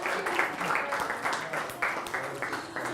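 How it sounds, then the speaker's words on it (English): A classroom of students applauds the winning group after a group activity, steady moderate clapping from a small crowd with uneven pulses throughout, close and continuous over three seconds. "A big applause."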